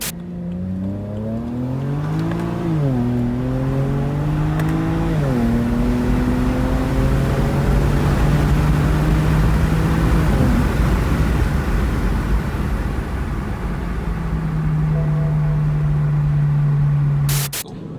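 A BMW 335i with the N54 engine and an MHD tune pulls hard through the gears, roaring loud and close with rising pitch and quick dips at each shift, then holding a steady drone under heavy wind and road noise.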